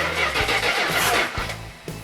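A V8 engine fitted with an Edelbrock carburetor cranks and fires up on an engine run stand, a loud, close burst of starter churn catching into a rough idle with no talk over it.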